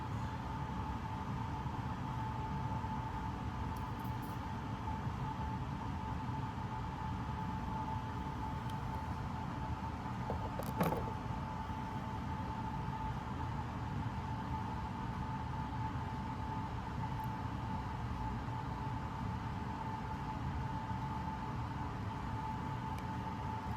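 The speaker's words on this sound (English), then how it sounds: "That noise you hear is my furnace." A household furnace running: a steady, droning mechanical hum unbroken throughout, with a faint tonal whine riding on top and a brief click partway through.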